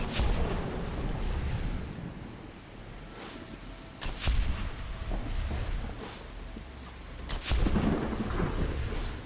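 Video game thunderstorm in Skyrim: steady rain hiss with deep rolling thunder, loud claps around four and seven seconds rising above the constant downpour, no talk.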